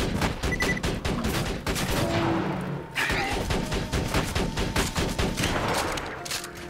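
A deployed turret firing in the video game Borderlands 2, rapid repeated shots in dense volleys, loud and nearly continuous with a brief pause midway, with scattered in-game impacts.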